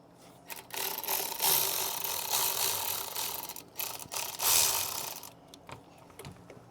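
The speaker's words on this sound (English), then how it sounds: "I'm going to use my ratchet with my extension" A ratchet with an extension bar loosening an intercooler clamp on a 2025 Ford Explorer ST, producing close, rapid clicking ratchet bursts with short pauses between strokes.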